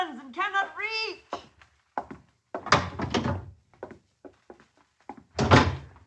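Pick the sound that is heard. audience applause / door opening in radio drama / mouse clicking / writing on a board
door opening in radio drama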